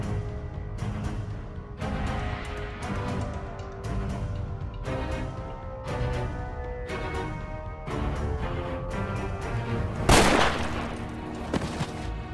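Repeated bursts of gunfire in the war film Sisu, as shots are fired at a plane about to take off, loud sharp cracks in irregular volleys with a heavier blast near the end.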